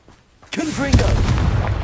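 A Confringo blasting spell from the Hogwarts Legacy video game bursts in with a sudden heavy boom, followed by a sustained rumbling roar, with a short spoken word just before it.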